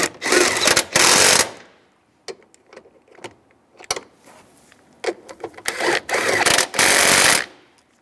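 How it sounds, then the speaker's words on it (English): Bolts being tightened on a 2007-2013 Chevy Silverado during a heater core replacement: two long, loud bursts of a buzzing power tool, one at the start and one near the end, with scattered clicks and clanks between them. "we're going to tighten these bolts down on the side first"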